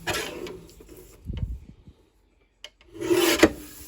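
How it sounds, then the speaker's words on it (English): Sublimation paper being trimmed: short dry scraping, rubbing strokes close by, a brief silence, then a louder rasping slide of paper. "We can safely trim that to about 6."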